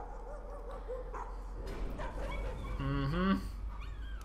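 A dog in the horror video game Layers of Fear barks and whimpers in a few short yips and whines, over a low game hum, with a brief murmur from a player.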